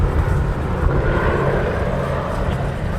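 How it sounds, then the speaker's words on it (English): A PBY-5A Catalina flying boat with its floats lowered roars overhead at an airshow at Duxford, a steady broad engine drone filling the sky, with faint commentary mixed beneath. "With the floats deployed on this particular pass, heading to the iconic profile of this wonderful aeroplane"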